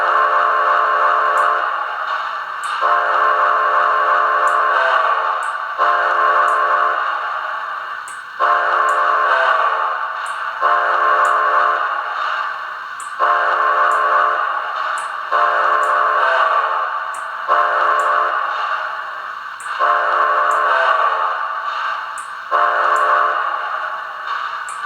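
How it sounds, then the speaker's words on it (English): Whistle of a Lionel Railsounds-equipped Western Maryland Shay #6 model steam locomotive, upgraded by Right of Way Industries, sounds in a series of loud, close, steady chime blasts, each lasting a couple of seconds with brief gaps, alone without talk. "Here's the whistle."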